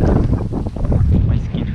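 Strong, steady wind buffeting the microphone outdoors on a cloudy day while fishing, a loud low rumble throughout with faint voice-like traces underneath.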